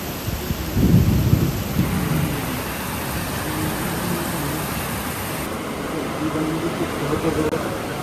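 Heavy rain pouring steadily during outdoor work, with a deep rumble of thunder rolling through near the start, then a constant wash of rainfall carrying on at an even, fairly loud level.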